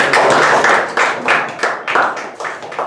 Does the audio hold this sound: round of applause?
yes